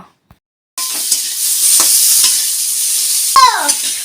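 Radish and cauliflower stalks fry loudly in a pan, a dense, bright sizzle that starts abruptly and carries on with occasional utensil scrapes and knocks.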